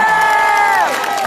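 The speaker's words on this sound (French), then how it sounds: "Merci d'applaudir Boudin," A crowd cheers and whoops at the Verdun fair, a loud sustained sliding cry over a bed of clapping and voices, lasting only about a second.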